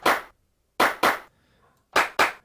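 Sharp, isolated LinnDrum-style clap hits from a drum machine emulation sound alone in five bursts with brief decaying tails, one single hit followed by two quick pairs.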